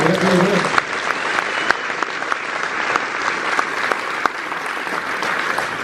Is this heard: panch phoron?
no